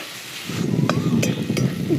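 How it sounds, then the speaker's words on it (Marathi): Chutney with cooked cowpeas, onion and tomato being sautéed in a pan, a soft sizzle rising after a quiet start, with a few light clinks of a utensil against the pan. "मग त्यात चटणी आणि शिजलेली चवळी टाकून परतून घेते."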